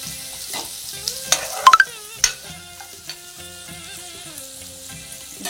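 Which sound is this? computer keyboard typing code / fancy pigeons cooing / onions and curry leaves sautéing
onions and curry leaves sautéing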